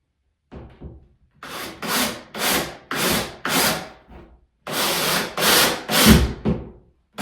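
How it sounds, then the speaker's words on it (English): A power drill drives a screw into a wooden brace in a series of short whirring bursts, roughly eight pulses with a pause midway, close and fairly loud with no talking. "I'm putting in a drill end to drill the screw straight into the wood brace"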